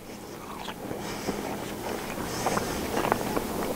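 Someone bites and chews homemade cold smoked bacon up close, with soft crunching and mouth sounds over a breezy, noisy background.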